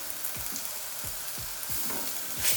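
Tomato paste sizzles steadily in a hot pan for a curry, with a spatula scraping through it in repeated strokes roughly every half second, close and fairly loud with no talking.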